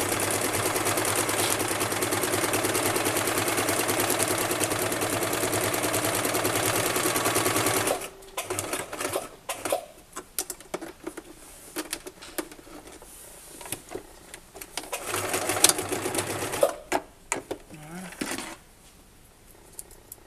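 Sewing machine re-stitching a seam on a washable wipes basket, running steadily up close for several seconds, then stopping and giving way to handling noises and light clatter.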